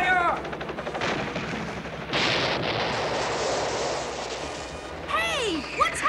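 Sustained automatic gunfire aimed at a small minicopter in a 1979 Godzilla TV series episode, loud and continuous for several seconds with a brief swooping, whistling effect near the end.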